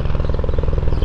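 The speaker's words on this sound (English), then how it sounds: "we've just got a helicopter going overhead." A helicopter's steady rotor chop over a Phuket beach, a rapid pulsing thump that holds constant throughout, fairly loud and close overhead with no speech.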